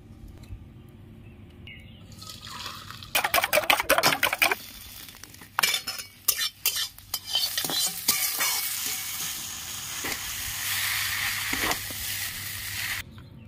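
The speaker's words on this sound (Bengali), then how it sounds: "চাউমিনটা আমি এখন ঢেলে নিচ্ছি" Egg chowmein noodles tossed and stirred in a hot pan, with bursts of sizzling and clattering scrapes that come in uneven clusters, then settle into a steady frying hiss.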